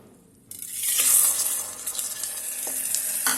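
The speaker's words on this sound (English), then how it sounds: "Now fry the rice too properly." Soaked rice frying in oil inside an electric kettle after vegetables were fried in it: a sudden loud sizzle bursts in after a quiet start and continues as a steady hiss with faint scraping stirs.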